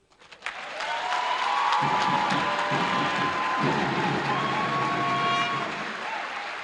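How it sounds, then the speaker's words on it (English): Audience applause fills a convocation ceremony hall at the Air Force Institute of Technology in Nigeria. It swells quickly into sustained, dense clapping with some cheering and holds loud for several seconds before easing slightly. "Another round of applause for him."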